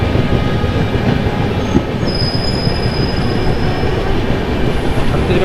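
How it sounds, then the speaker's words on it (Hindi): The Chhattisgarh Express passenger train rolls along the rails with a loud, continuous rumble and rattle of carriages, and a thin wheel squeal rises briefly partway through. No voices are heard. "बिलासपुर देव रोड छत्तीसगढ़ एक्सप्रेस है ये।"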